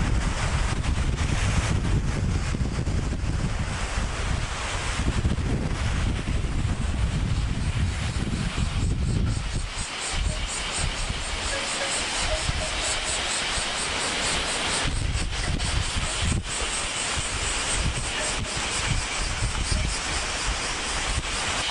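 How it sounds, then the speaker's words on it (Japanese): Strong wind at Hachifuku campsite in Amakusa roaring and buffeting against the microphone, a loud, continuous rumble with gusty surges throughout, no voices audible. "で風が強くってね、喋ってても聞こえるのかどうかが分かんないですね"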